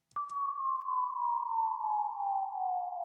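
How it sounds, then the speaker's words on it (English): A single pure sine-wave tone glides slowly downward from high to low pitch for about three seconds, clean and steady, ending abruptly. "So the sine wave goes from a high pitch to a low pitch."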